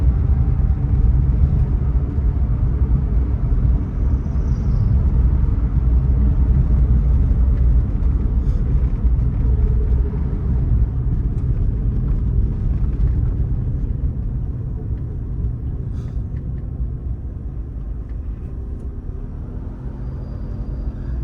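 A 1998 Suzuki Alto Works RS/Z accelerates with a loud, steady engine and road rumble that holds throughout and eases slightly toward the end, with no talking.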